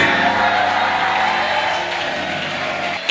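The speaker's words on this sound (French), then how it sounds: "Standing ovation. Standing ovation." A large church congregation roaring, cheering and applauding together in a standing ovation, a loud, sustained wash of noise that barely changes throughout.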